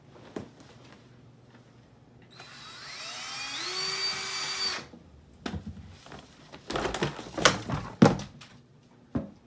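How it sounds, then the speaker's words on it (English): A power drill whirs for about two seconds, its pitch climbing as it spins up, then stops, followed by scattered knocks and clattering thumps. "What are you doing with that power drill?"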